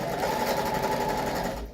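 Sewing machine running steadily, stitching with polyester thread, blue in the bobbin and green on top; a continuous close, loud mechanical whir that eases off just at the end.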